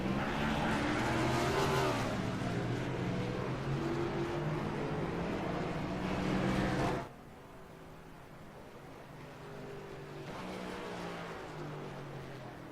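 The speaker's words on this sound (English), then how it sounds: "they'll do a bit of a dual burnout to celebrate" Virtual NASCAR stock cars at Bristol in the iRacing game roar through a celebratory dual burnout, loud sustained engine revving that drops abruptly to a quieter idle-like drone, then swells slightly again.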